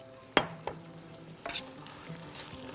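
Cream and oil sizzle softly in a hot pan while a utensil stirs, with a few sharp scrapes and clinks against the pan over a low, steady frying hiss.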